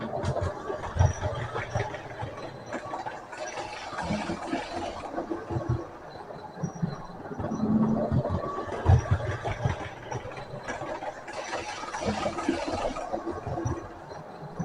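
A GNR HST model train runs around a layout, giving a steady quiet rumble and clatter of small wheels on track that rises and falls as it circles.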